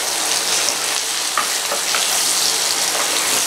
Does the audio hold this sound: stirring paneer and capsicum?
yes